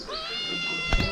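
A cat gives a single drawn-out meow nearby, clear and tonal, ending in a short burst of louder noise.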